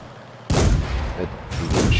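An M5 Stuart light tank fires its drum-fed gun in World of Tanks, two sharp, loud, near blasts about a second apart, each trailing into a rumbling decay, with no talking.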